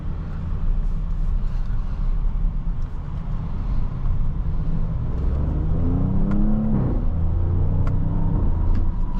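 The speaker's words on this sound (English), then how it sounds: "I like the little pops and crackles from the exhaust." A 2021 Audi S7 in dynamic mode accelerates hard with a steady, loud engine rumble and a rising rev, while a few faint, sharp exhaust pops flick through near the end.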